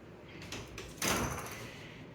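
A hotel room cupboard door at a resort slides open with a soft rolling swish and a brief bump, faint and close in a quiet room.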